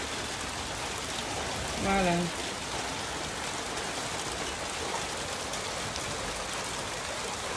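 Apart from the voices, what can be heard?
rain falling outside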